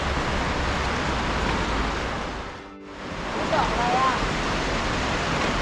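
A forest stream near Mae Rim flows with a steady broadband rush of water, close and fairly loud, dipping briefly mid-way before resuming at full level.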